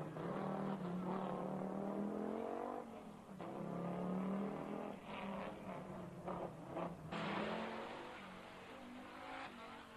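Audi 200 Quattro Group A rally car, about 1.5 tonnes and 300 horsepower, driving around town ramparts, engine revving and shifting through gears from inside the cabin, fairly faint with changing pitch.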